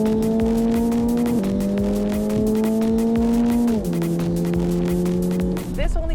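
A 2024 Subaru BRZ's engine hums steadily from the cabin while driving, its pitch dropping twice as gears change, over constant road noise, with a voice speaking over it.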